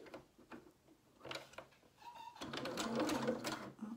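A sewing machine runs a zigzag stitch on a cardigan, starting with a few short bursts and then settling into a steadier, faint mechanical whir, recorded close and quietly without talk.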